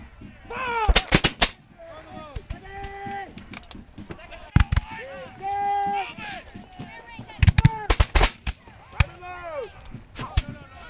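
A company of reenactors fires musket volleys at a Battle of Monmouth reenactment, with repeated loud ragged bursts of shots nearby, while officers shout commands between them.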